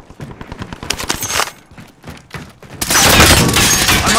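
Gunfire in Call of Duty: Warzone on PS5 in Verdansk, bursts of rapid shots building up, then a dense, loud sustained barrage of overlapping fire near the end.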